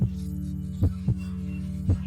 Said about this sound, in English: Why is your heart beating so fast?